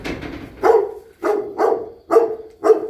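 A dog on a farm barks in a series of four or five loud, evenly spaced woofs, close by, with short pauses between them.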